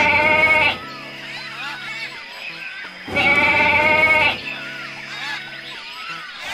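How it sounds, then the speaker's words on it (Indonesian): A goat bleats twice, each a loud, wavering cry of about a second, separated by a pause, with soft background tones in between. "ini kambing teman-teman."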